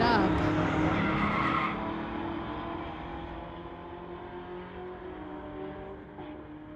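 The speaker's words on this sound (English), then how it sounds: "Lots of tire spin for the Camaro" A 1969 Camaro spinning its tires off the line at a street-legal drag race, a loud screeching roar that fades as the car pulls away down the strip, with faint voices in the background.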